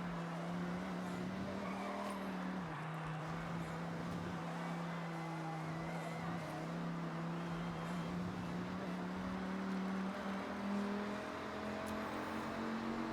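A Dodge Ram SRT-10 pickup with its V10 engine runs in Forza Horizon, a steady low engine drone holding under tire and road noise, with pitch shifting as it accelerates and slows throughout.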